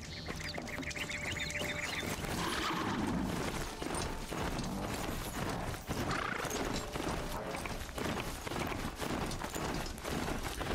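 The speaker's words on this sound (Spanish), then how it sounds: "Necesito mi caballo. Vente, caballo, vente, caballo." Galloping hoofbeats of a mount in the video game Horizon Zero Dawn, a steady rapid clip-clop running the whole time over a busy layer of game sound and music, with no one talking.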